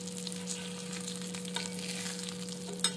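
Fish shallow frying in a pan over high flame, a steady close sizzle with a constant electrical hum and a sharp clatter near the end.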